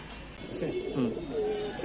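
Pigeons in a coop, with soft low cooing calls that rise and fall under nearby conversation.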